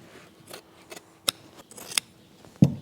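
Fabric pieces snipped off Toyota Tacoma (2005–2014) seat covers with scissors: a few sharp, separate cuts and snips spaced across a quiet moment, close up, ending in a louder thump.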